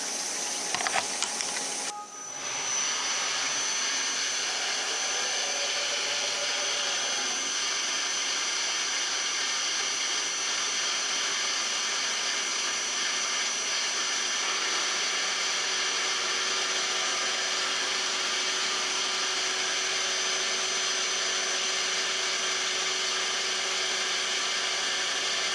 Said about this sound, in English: We're gonna flip it and face off the bottom